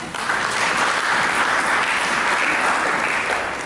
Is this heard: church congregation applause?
yes